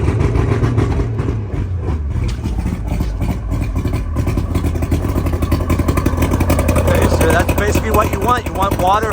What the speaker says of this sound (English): let's go ahead and turn it on real quick